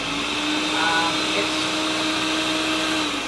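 A Ninja blender whirs steadily while blending a chocolate mix, a loud sustained motor drone with a high whine that holds for the whole stretch, no one talking over it.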